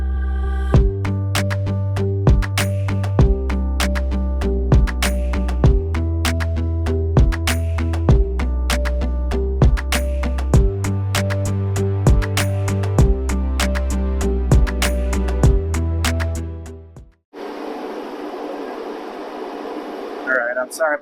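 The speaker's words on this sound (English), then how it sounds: "I got to run the big torpedo heater just to keep the shop here warm enough for paint to dry" A big torpedo heater roars steadily in a workshop, a loud constant blowing rumble with repeated sharp ticks and clanks over it, cutting out after about seventeen seconds to leave quieter room noise.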